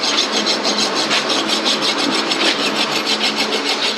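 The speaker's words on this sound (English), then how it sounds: "The edge of the rasp." A rasp roughs up a surface with rapid, rhythmic scraping strokes, loud and close, continuing steadily throughout.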